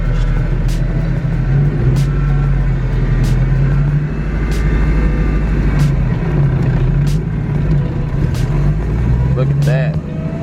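A Ford Foxbody drift car with a manual transmission drives steadily, its engine droning loud and close with a constant rumble and brief clicks, while people talk inside.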